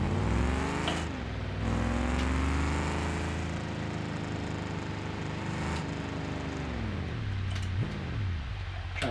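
Simulated racing car in a sim played on a Fanatec CSL DD Pro wheel, pulling away from a standstill. The engine drone rises through the gears, dipping and climbing again at each shift, steady and close, with faint ticks.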